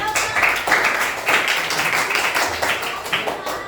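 Audience applause in an Indonesian classroom session, a steady wash of clapping hands with brief swells, fairly close and continuous throughout.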